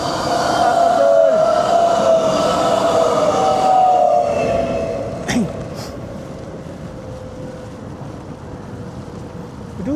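A train rolls steadily past while cycling on the way to work, a loud sustained rumble with a droning tone that gradually fades over about ten seconds, with a couple of sharp clanks midway.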